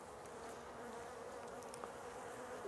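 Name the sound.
worker bees flying around an open beehive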